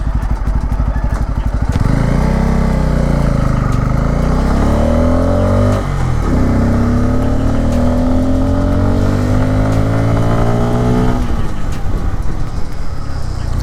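A Bajaj Pulsar N250 motorcycle being ridden in road mode, engine loud and close as it pulls away and accelerates through rising revs with gear shifts, dipping briefly before climbing again.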